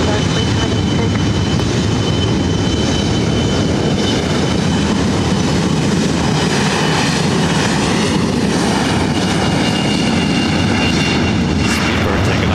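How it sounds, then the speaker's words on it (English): A British Airways jet thunders down the north-side runway at LAX on takeoff, a loud, sustained engine roar that holds steady and dominates throughout. "Speedbird taking off on the north side"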